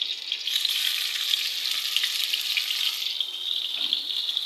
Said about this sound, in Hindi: ये मैंने पैन में तेल गरम कर लिया है और अब इसमें मैं बैंगन के एक एक पीस जो है वो डालती जाऊँगी